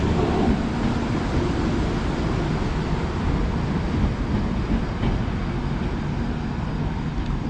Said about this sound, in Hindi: और ये थी हिमगिरी सुपरफास्ट एक्सप्रेस।